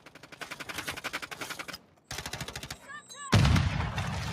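Gunfire rings out in the video game DMZ: rapid bursts of automatic shots, a brief pause, then another volley, ending in a louder heavy blast with rumble.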